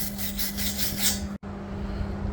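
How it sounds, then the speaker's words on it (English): A flap disc of about 60 grit sanding a metal show-cattle walker frame, giving a steady, fairly loud rasping grind with a constant motor whine that cuts out for a split second midway, then resumes. "these are flap discs. I think this is 60 grit."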